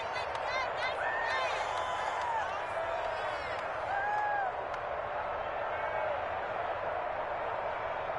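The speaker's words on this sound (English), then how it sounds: "this home crowd is in a frenzy as their guys have pulled it out in the end" A video-game football home crowd roars in a sustained frenzy after a game-winning field goal, a dense wash of cheering with scattered whoops and whistles under faint commentary.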